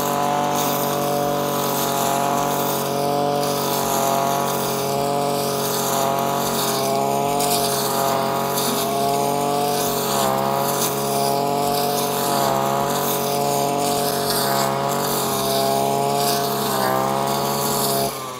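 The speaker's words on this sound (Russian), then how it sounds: "Нажимаем на газ, вращается нож." A ZimAni 143R-II petrol grass trimmer engine runs at high revs with its blade spinning, a loud buzzing whine close by, wavering slightly in pitch as the throttle shifts.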